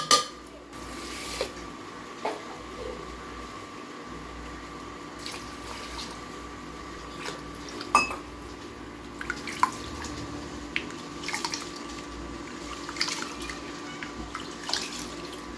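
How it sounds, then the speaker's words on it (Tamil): Two tumblers of rice being washed in water in a kitchen, with soft drips, trickles and light clinks of a vessel and utensils, fairly quiet and intermittent throughout, with no talking. "நம்ம 2 டம்ளர் அரிசி நம்ம 2 டம்ளர் எடுத்துக்கலாம். இதை நல்லா வாஷ் பண்ணி ஊற வச்சிடலாம்."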